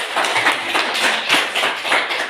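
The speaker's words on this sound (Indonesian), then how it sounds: "Kita tepuk tangan dulu" A classroom of students claps together in a lively, sustained round of hand clapping, close and fairly loud, with no talking over it.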